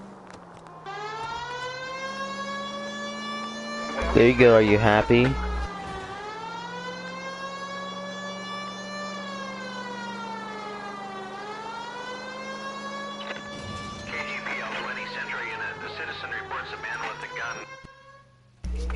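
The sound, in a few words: police car siren in LA Noire video game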